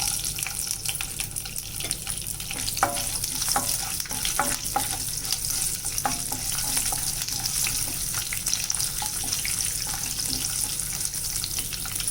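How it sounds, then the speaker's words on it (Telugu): Crushed garlic sizzles steadily in a hot pan while a spoon stirs and scrapes it in irregular strokes, close and continuous, with no talking. "కొంచెం వేగిన తర్వాత దంచుకున్న ఎల్లుల్లిపాయలు వేసేసుకున్నాం"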